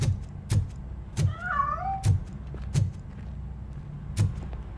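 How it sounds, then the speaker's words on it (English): A cat in the video game Robocop: Rogue City meows in short rising and falling cries of about a second, heard over a steady low game ambience with several sharp broadband thumps. "That cat must be hiding inside. Let me lure it out."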